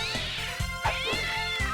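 A summoned cat in Castlevania: Dawn of Sorrow meows repeatedly: a rapid series of short synthetic meows, roughly six in under two seconds, loud and alone over a steady low game tone.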